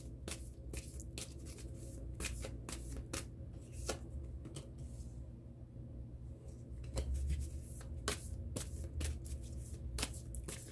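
Tarot cards are shuffled for a love reading, a steady run of close, crisp card riffles and flicks repeating in irregular bursts over a low background hum.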